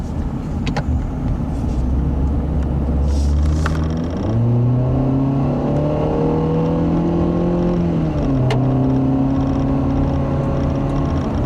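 A 2014 Ford Fusion S four-cylinder engine hums steadily, its pitch rising and shifting as the car accelerates through gears, heard close from inside the cabin.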